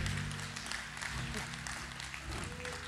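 Church congregation cheers and applauds for fathers during a Father's Day service, a sustained wash of clapping and crowd noise with a voice talking over it.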